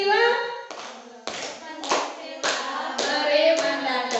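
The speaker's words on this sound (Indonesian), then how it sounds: "Sudah tahu tepuk profil pelajar Pancasila?" An Indonesian school class performs the Pancasila student profile clapping chant, sharp claps landing in a steady rhythm every half second or so, close and loud, mixed with children's chanting voices.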